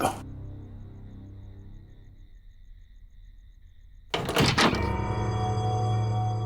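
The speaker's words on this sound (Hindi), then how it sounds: "दरवाजा बंद कर दो।" A door in a TV drama scene swings shut with a loud thud about four seconds in, following a quiet stretch of low room hum, and the impact rings on briefly afterward.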